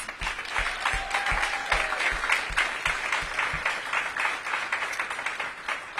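A school audience applauds the principal and teachers at a back-to-school celebration, steady dense clapping that fills the room for several seconds at moderate loudness.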